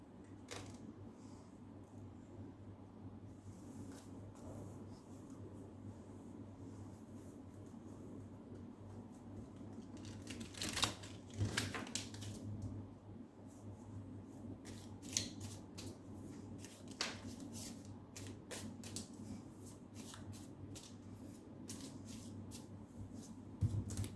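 Soft papery riffling and snapping of tarot cards being shuffled over and over, close and quiet, with a low hum underneath.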